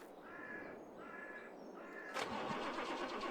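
A truck engine cranks and fires up in the farming game Farming Simulator 22, the start coming suddenly after steady ambient noise with a few faint tonal calls, then a sustained rough engine rumble; no speech.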